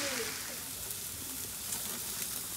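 Mushrooms and onions fry in a pan for dinner, giving a steady crackling sizzle that holds at an even level throughout, with no voices over it.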